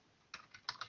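A few quick, quiet keystrokes clatter on a computer keyboard as a git command is typed, a short close burst of clicks after a moment of near silence, with no speech.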